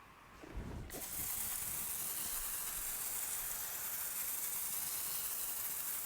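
A Marolex pressure foamer sprays thick foam in a steady, loud, close hiss that starts after a brief sputter and runs unbroken to the end, with no voices.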